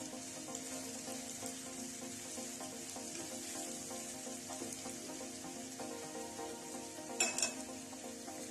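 Chopped onion sizzling steadily in hot oil in a pan, a close, continuous frying hiss with a brief burst of stirring or lid movement near the end.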